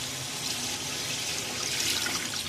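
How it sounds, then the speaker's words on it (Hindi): Water poured steadily into a pan of fried spice mixture while cooking kabsa, a continuous close splashing, gurgling flow with no talk. "ये मसाले में हम डाल देंगे 6 गिलास पानी के"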